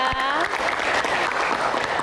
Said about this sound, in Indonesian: Tepuk tangan untuk Kang Maman, Mas Indu dan Dian dan teman-teman semuanya.